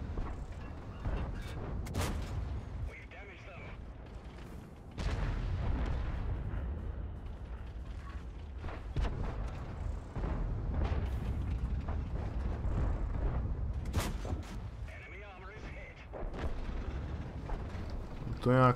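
Explosions and heavy cannon blasts from World of Tanks, a tank battle game, strike in repeated loud booms with rumbling tails, several hits spaced across the stretch under a continuous battle din and occasional talk.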